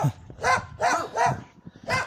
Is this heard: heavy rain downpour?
no